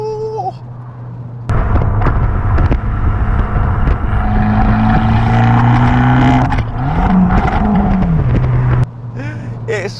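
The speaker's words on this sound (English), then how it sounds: "this car comes with the aquamarine exhaust, and boy does it sound good" An Abarth 695C Rivale small hatchback with the aquamarine exhaust in sport mode, engine revving loudly up and down with a rasping, popping exhaust note close by, quieter idle before and after.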